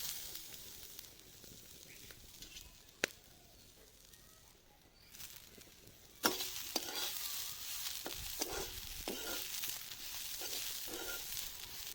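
Grated coconut tossed in a hot wok, producing a faint dry sizzle with repeated spatula scrapes and stirring clicks that grow busier and louder in the second half.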